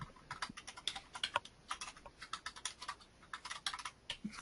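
Rapid typing on a computer keyboard during an evening online class meetup: dense, irregular clicks and clacks in quick bursts, close and fairly crisp, with no speech.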